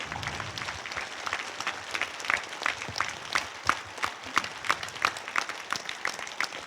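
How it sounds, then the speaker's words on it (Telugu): A large meditation gathering claps harder, the applause growing more forceful and rhythmic toward the end, with distinct loud claps punching through a continuous crowd clatter. "ఇంకా గట్టిగా."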